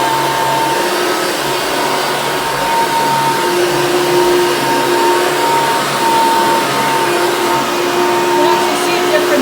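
Eureka Victory vacuum cleaner running steadily after its fan was cleaned, a loud continuous motor whine and airflow roar with a high tonal hum, close and unbroken throughout.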